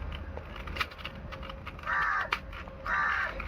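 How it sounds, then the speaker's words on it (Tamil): A crow caws outdoors in two drawn-out, harsh calls with a few shorter sharp caws between them, fairly close and loud over a steady background hum. "காக்கா சார் டிஸ்டர்ப் பண்ணுறாங்க."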